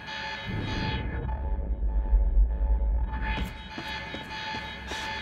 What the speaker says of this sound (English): The alarm must have locked everything down. Maybe I can turn it off.